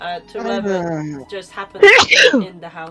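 A single sharp sneeze bursts out in the middle of a tabletop role-playing game session, close and loud, with people talking just before and right after it.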